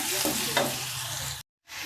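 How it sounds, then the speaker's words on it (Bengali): Garlic fries in hot oil in a pan while being stirred for a rohu fish dish, a dense close sizzle with spoon scrapes, cut by a brief silent gap before the frying resumes. "এবার একটু নেড়ে দেবো রসুনটা দিয়ে,"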